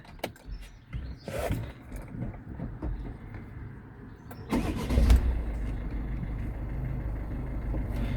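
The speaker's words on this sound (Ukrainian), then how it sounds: "Зараз вам заведемо автомобіль" A Peugeot Expert van's engine, with a six-speed manual gearbox and 160,000 km on it, cranks and catches partway through, then settles into a steady low idle, with some clicks and handling noises before it.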